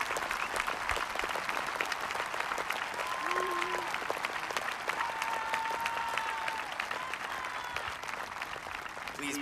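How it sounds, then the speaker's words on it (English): Sustained applause from a high school commencement audience honoring first responders, a dense steady wash of clapping that holds for the whole stretch, with faint background tones and crowd murmur. "could we please have a round of applause for all of our first responders?"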